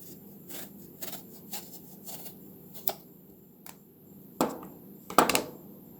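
Soft, irregular tearing and ticking as an eggplant's skin is peeled by hand, a series of small close crackles spaced unevenly, louder near the end, with no talking.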